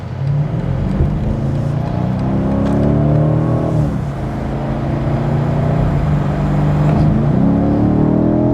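A 2019 BMW M850i coupe revving its engine in a loud, sustained roar that rises and dips over several seconds, with exhaust crackle hard to pick out beneath the drone.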